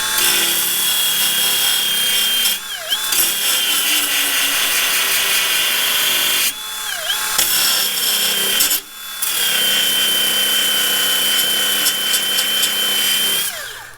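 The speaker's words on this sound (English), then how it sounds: "So let me show you how to break spot welds. This is a Milwaukee band file" A Milwaukee band file, a miniature belt sander, grinds through spot welds on truck body metal with a loud continuous abrasive whine, stopping and restarting in short bursts and pitching down briefly as it bites.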